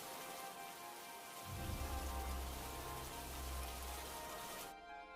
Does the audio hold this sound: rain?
yes